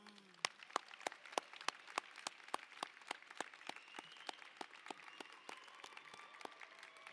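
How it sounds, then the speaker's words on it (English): At a graduation ceremony, graduates applaud their loved ones with a round of clapping in a large hall, the claps steady but fairly faint and distant. "Graduates, please join me in giving your loved ones a round of applause."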